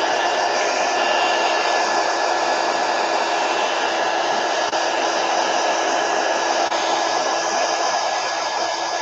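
A hair dryer blowing steadily at close range to dry a watercolor painting, one constant loud whooshing drone with no breaks.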